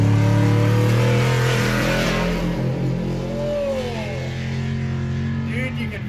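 Pro/Ultra4 off-road race vehicles launch off the start line at the 2022 TDK Big Sky race in Broadview, Montana, with loud, sustained engine roar and revving whose pitch climbs and then fades, heard close and steady.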